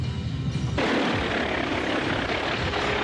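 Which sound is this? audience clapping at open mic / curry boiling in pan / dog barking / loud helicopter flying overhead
loud helicopter flying overhead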